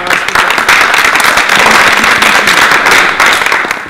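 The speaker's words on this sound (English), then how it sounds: "how about a round of applause for him?" An audience applauds a speaker at a morning event on the fossil fuel industry in the Bay Area, a loud, dense, crackling burst of clapping that holds steady throughout.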